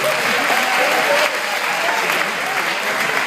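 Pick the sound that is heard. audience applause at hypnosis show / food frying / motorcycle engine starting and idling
audience applause at hypnosis show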